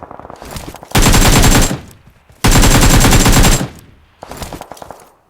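Automatic gunfire in the mobile battle royale game PUBG Mobile: two loud sustained bursts of rapid shots, each about a second long, separated by quieter stretches with softer distant firing.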